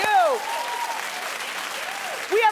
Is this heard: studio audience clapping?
yes